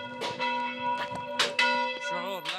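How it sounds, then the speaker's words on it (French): A church bell rings in a Middle Eastern church whose congregation has just regained it, struck repeatedly with bright sustained harmonic tones and overlapping decaying strikes, loud and close, with no talking. "Faire sonner cette cloche, c'est montrer notre joie après la libération de notre Église."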